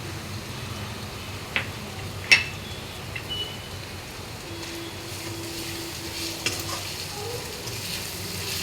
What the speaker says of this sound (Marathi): अर्धा ते 1 मिनिट आपल्याला तेलामध्ये असे परतून घ्यायचे आहे।